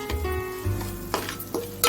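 Spiced shamagadda (taro) curry is stirred in a pan over a low flame, with a soft sizzle under scraping spoon strokes and a couple of sharper metallic scrapes, close by with no talk.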